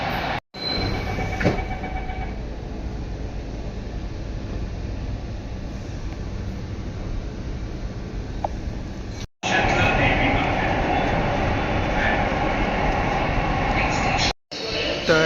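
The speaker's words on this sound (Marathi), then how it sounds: "आपली ट्रेन पण आली" Mumbai's first underground metro train pulls into a station with a steady, loud rail rumble and faint wheel squeal, swelling louder in the second half, while people talk nearby.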